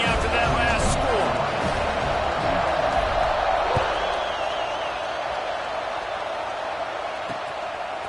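A football stadium crowd at a college game hums with loud, continuous buzzing and scattered whoops after a score, while a commentator talks over it.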